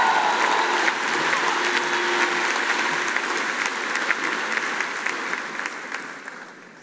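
Large audience applauding at a university commencement ceremony, a steady dense wash of clapping that holds for several seconds before gradually tapering off.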